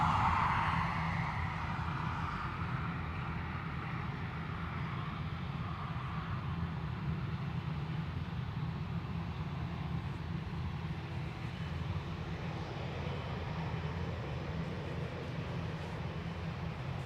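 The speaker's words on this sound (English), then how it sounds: "Aer Lingus A320 heading to Amsterdam." Aer Lingus Airbus A320 at Dublin Airport, a steady distant jet engine roar and low rumble that holds evenly throughout, heard from outdoors at a distance.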